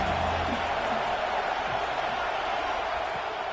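Steady stadium crowd roar in the college football video game NCAA 26, building on a big third down with the home crowd behind the defense; a dense, continuous wash of cheering, with a commentator talking faintly underneath.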